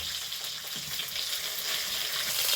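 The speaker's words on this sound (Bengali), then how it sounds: "তো এই চারাপোনাগুলো কিন্তু আমার ভেজে নেওয়া হয়ে গেছে।" Small carp fry in hot oil, a steady close hiss and crackle of frying with faint stirring, no voices.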